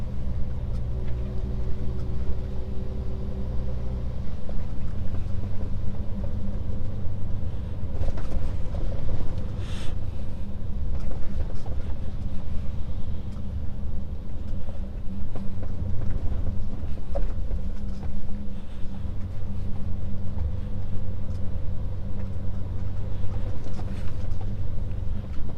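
A car drives slowly along a rough, unpredictable road through rain in Slovenia, its engine a steady low rumble with road and wind noise throughout, heard from inside the vehicle with no talking.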